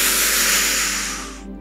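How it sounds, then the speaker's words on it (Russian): A deep breath drawn in during a guided breathing exercise, a steady broad airy hiss held for over a second before fading out, close and alone. "Делаем глубокий вдох."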